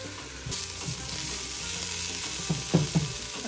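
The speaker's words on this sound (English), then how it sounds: "rendering is just like the fat disappears and gets like kind of golden brownish" Fat renders and fries in a pot for pasta e fagioli, a steady loud sizzle with a few louder pops and spits near the end.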